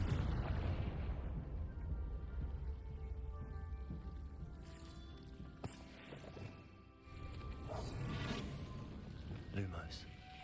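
Confringo fire spell exploding in Hogwarts Legacy on PS5, a burst of booming blasts and crackling debris amid game effects, with a voice talking faintly underneath.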